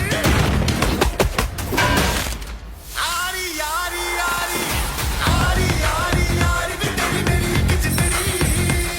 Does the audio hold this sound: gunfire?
yes